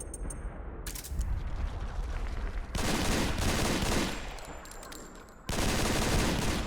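Rapid bursts of gunfire from Eva's Type 17 pistol in Metal Gear Solid 4, loud and close, with a short pause before a final volley.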